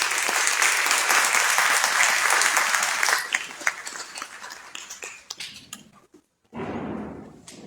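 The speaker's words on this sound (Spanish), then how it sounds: "Cordero, especialista en Derecho Ambiental, a quien brindamos fuertes palmas." A crowd applauds loudly and steadily for a few seconds, then the clapping thins into scattered claps and fades, followed by a brief noisy rustle.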